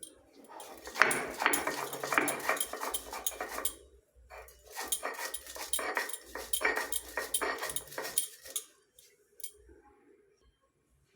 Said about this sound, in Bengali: এখন এই যে সর্ষেটা আর দুটো কাঁচা লঙ্কা আর 4 কোয়া রসুন, এটাকে বেটে নিয়ে